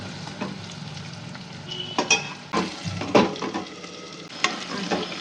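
Eggplant and onion curry sizzles steadily in a pan over heat, with several scraping stirs of a spatula and light clinks of utensil on metal standing out above the continuous frying hiss, close and clear with no talking.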